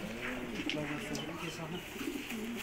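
A home-bred Hungarian giant house fancy pigeon from 2021 coos nearby in repeated low, throaty, rolling phrases, while people talk in the background.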